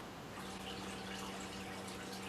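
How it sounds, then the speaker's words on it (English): Aquarium water gurgling in a room, a steady bubbling wash with a constant low hum beneath it, close and continuous with no voices. "Still haven't done anything with the daggone aquariums. I can hear them gurgling back here."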